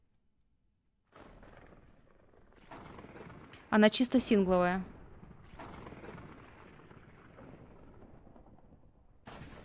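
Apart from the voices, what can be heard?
thunder and lightning in the video game Minecraft (Project Ozone 3)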